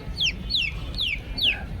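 Young Aseel chicks peep in four clear, evenly spaced high descending chirps, close and distinct over a low background rumble.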